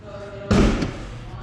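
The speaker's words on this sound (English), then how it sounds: "Oh, these doors are so heavy." The heavy armored door of a bulletproof Mercedes G-Wagon swings shut with a single loud, deep slam up close, followed by a short metallic after-knock and a quiet tail.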